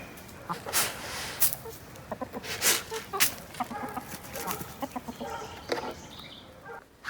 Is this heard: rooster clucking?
yes